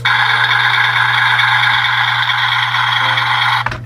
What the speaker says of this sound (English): it's supposed to imitate what a truck is supposed to sound like